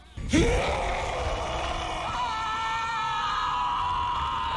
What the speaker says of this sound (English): whenever anyone says the secret word, scream real loud!